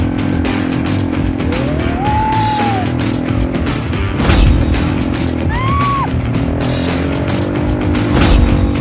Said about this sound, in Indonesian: Aku dan Sila memacu motor ATV balapan di pinggir pantai.